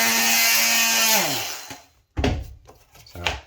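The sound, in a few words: multi-tool cutting old MDF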